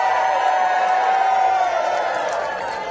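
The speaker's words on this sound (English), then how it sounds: "People here want to cheer." Large street crowd of about 7,500 people in St. Johnsbury, Vermont, cheering during the 2024 total solar eclipse, a steady, dense roar of voices with whoops that holds loud throughout and eases slightly at the end.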